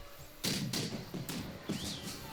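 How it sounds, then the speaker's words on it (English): Cannon shots in the strategy game March to Glory land as several dull, heavy thumps spaced about half a second apart, each with a short muffled boom, fairly close. "we can also get a nice shot with our cannon"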